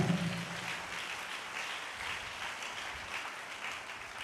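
A church congregation claps together in praise of God during a sermon, a thin, steady wash of many hands clapping that sounds somewhat distant and muffled, holding at an even level the whole way through, with no voices over it.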